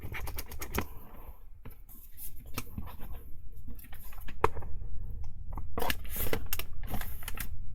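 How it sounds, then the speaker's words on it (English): Tape being cut for a mini album cover, with several sharp scissor snips and crisp crinkling strokes spread across the stretch, close up and fairly quiet, with no talking. "So I've been cutting this tape at an angle so that I can then add it on an angle"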